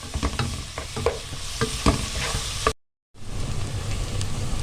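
Chopped onion with a little salt fries in a hot pan and is stirred, crackling sizzle with scraping spoon strokes, a brief dropout, then steady frying resumes.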